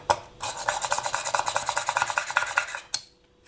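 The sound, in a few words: push drill drilling holes in clay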